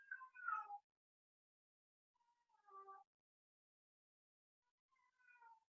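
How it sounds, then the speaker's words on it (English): A cat meows three times, the calls spaced a couple of seconds apart with silence between, fairly close and clear. "That's my cat."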